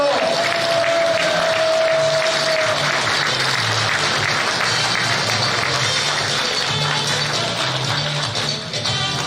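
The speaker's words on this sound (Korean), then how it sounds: "우렁찬 박수와 함성으로 이근식 당대표님에게 힘을 실어주십시오." A crowd at a party founding convention claps and cheers for a newly elected party leader, a loud, continuous roar of applause and voices filling the hall throughout, with a brief sustained tone near the start.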